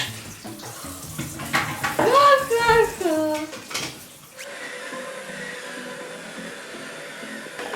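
Water runs from a tap with splashing and clinking of dishes being washed by hand while someone talks and laughs, then a steady, even stream of water continues alone.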